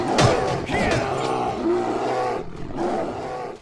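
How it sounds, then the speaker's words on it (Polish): Bears in the Metin2 video game let out loud, sustained growling roars that overlap one another in close succession, with no talking. "Straszne te niedźwiedzie."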